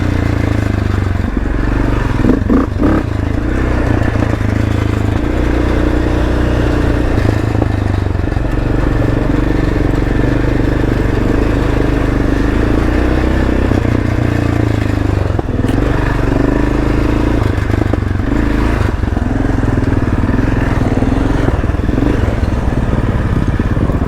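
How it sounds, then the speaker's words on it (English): ATV with a loose exhaust shield on a forest trail, a continuous loud engine drone with intermittent clattering and scraping rattles over the full stretch, no talking. "Something rattling. I think it's my exhaust shield"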